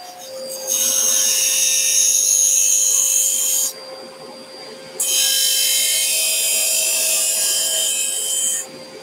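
A belt and disc sander shapes a small wooden mini skateboard, a loud high rasping whir in two long passes separated by a brief quieter pause.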